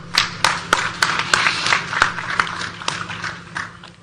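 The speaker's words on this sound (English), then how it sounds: "I want us to clap for him." An audience at an African business and investment forum claps in scattered, sharp bursts, a handful of distinct hand claps spaced irregularly over a faint room hum.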